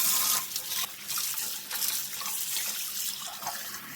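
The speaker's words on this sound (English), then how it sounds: "Obviously, before I can use these new jars, I need to give these a bit of a wash" Tap water runs steadily into a sink while glass jam jars are rinsed and washed under it, a continuous close splashing with small knocks of glass, no talking.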